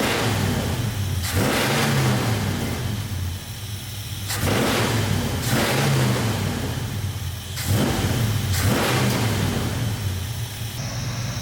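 A 1974 Ford F100 V8 engine running after a carburetor rebuild, in gear with no driveshaft fitted, revving up and settling back in three or four loud, close swells over a rough steady idle.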